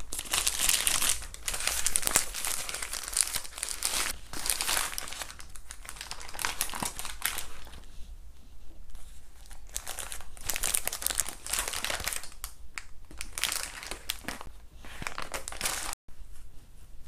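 The paper wrapper of a No Brand grilled bulgogi burger is unwrapped close by, making repeated crisp crinkling and rustling bursts at a quiet level.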